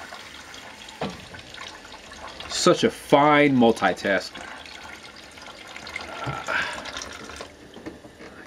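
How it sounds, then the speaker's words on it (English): Tap water running into a pot in a trailer kitchen, a steady splashing fill with a rising pitch in the middle, heard under a person talking nearby. "going to continue to talk to you while I fill the pot with some more water"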